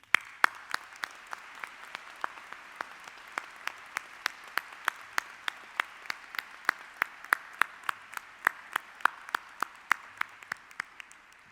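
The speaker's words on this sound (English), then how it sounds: "I would like us all to take a moment to applaud them." An audience claps in a steady round of applause, sharp individual claps standing out above the continuous patter, lasting over ten seconds.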